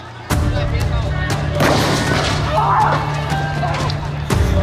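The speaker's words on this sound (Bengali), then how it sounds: "ঠিক তারা সেই উদ্দেশ্যে আবার আমাদেরকে গুলি করে।" Police fire on protesters, heard as a loud, sudden crack of gunfire followed by a sustained roar and rumble, then another sharp report near the end, in a noisy outdoor crowd scene.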